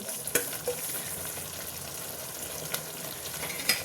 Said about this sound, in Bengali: এই যে আমি উচ্ছেটা ভেজে রেখেছিলাম এই মশলার উপরে আমি দিয়ে দিচ্ছি